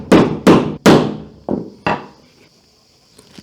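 A hammer strikes a hole punch into a leather sheath on a workbench. Three loud, sharp blows land in quick succession, then two lighter taps follow, each with a short ringing decay. The sound is close and there is no talk.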